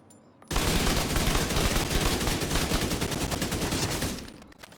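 An assault rifle fires a long continuous burst in a shooter video game, a loud, rapid and evenly spaced stream of shots that starts abruptly and tapers off at the end, with no talking.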